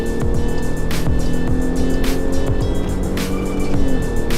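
Jeep Grand Cherokee accelerating hard on an unlimited section of the German Autobahn, the engine and road roar loud and steady inside the cabin, with rising tones as it pulls through the gears.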